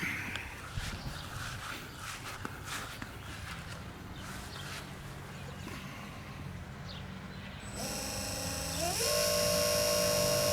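An electric trolling motor on a Native Watercraft Falcon 11 kayak whines into life near the end, its thin tone stepping up in pitch as the throttle rises, after quiet outdoor ambience.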